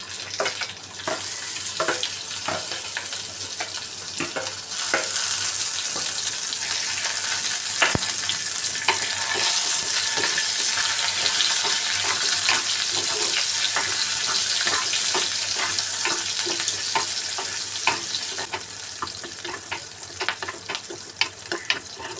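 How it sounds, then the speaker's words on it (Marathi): Finely chopped chili and garlic crackle in hot tempering oil for tadka dal, a dense, continuous sizzle peppered with sharp pops and ladle taps that stays loud and close throughout. "आता ह्याच्यात मिरची कट केलेली बारीक आणि लसूण टाकूया."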